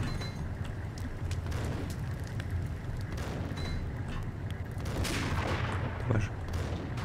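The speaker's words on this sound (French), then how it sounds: "il envoie des grenades ce con" A Max Payne game firefight brings dense, continuous gunfire with grenade blasts and booms, loud and sustained throughout with no pause.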